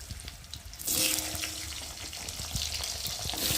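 Potatoes hit a hot pan over fried tempering spices, and a loud, steady sizzle of frying starts and continues up close, with faint stirring clicks.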